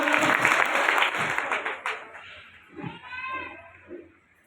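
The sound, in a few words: applause in honour of the speaker's team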